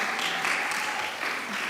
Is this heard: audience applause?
yes